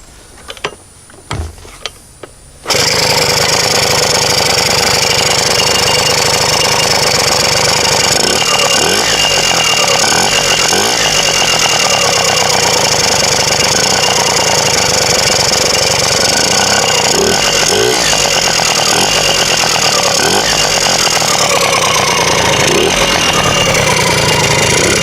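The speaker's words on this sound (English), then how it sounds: "It's 2-stroke, so I mix the gas with the oil and it's kickstart." Two-stroke Dune Cycle trike engine kickstarted: a few brief kick attempts, then it catches and runs loudly and continuously at close range with a raspy, buzzing idle and slight revving.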